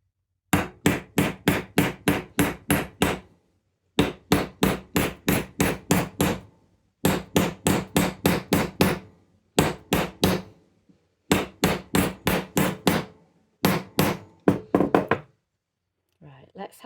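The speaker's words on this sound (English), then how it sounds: "I'm going to try and do it with a hammer just to see how easy it is." Wire for a bangle is hammered on a bangle die in repeated bursts of sharp, loud metallic blows, about eight to ten strikes per burst, separated by short pauses.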